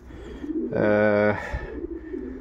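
A female pigeon, matched to a cock bird from a champion racing line, gives one short, rich coo in a breeding loft in December, with someone talking before and after.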